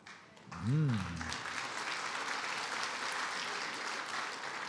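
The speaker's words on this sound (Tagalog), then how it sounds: "Hindi ko alam ba't ka pumalakpak" A church congregation claps during a sermon, a broad, steady patter of many hands that fills the room and follows a brief voice at the start.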